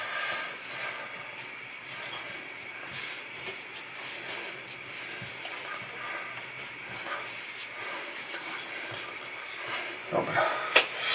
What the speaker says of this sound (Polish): I będziemy smażyć to na złoty kolor.